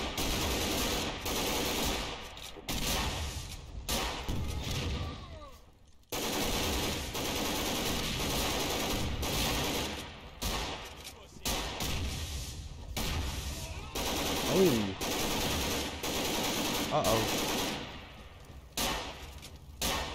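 SWAT weapons fire in Garry's Mod during a fight against Mr X, with loud, sustained automatic gunfire and rapid overlapping shots that rattle on almost continuously, broken only by a brief pause.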